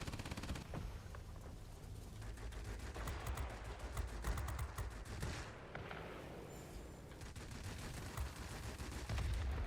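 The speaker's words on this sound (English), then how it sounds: "My rear gunner's going to help here." In World of Warplanes, a P-61 Black Widow's rear gunner fires continuous rapid machine-gun bursts, loud and dense over engine roar and battle noise, with a brief lull in the middle.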